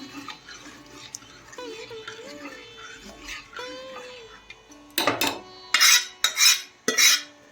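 Jowar flour being stirred into water in a pot, heard as quick scraping and clinking of a spoon against metal in several rhythmic bursts toward the end, after a stretch of quieter sounds.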